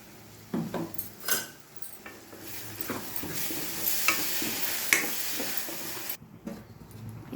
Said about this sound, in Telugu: ఇప్పుడు ఇందులో మనం ఇందాక చేసి పెట్టుకున్న పేస్ట్ వేసుకుందామండి